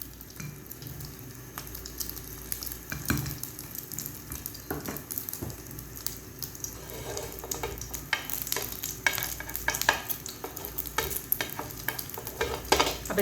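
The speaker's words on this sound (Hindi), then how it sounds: "अब मैं क्या करूंगी, ऑमलेट बना लूंगी।" An omelette shaped into a square fries in a pan, a steady close sizzle with stirring and scraping clicks throughout, no voices.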